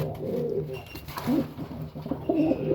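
Soft, throaty coos of a male racing pigeon repeat a few times close by, low and rounded, over a faint background hum with no talking.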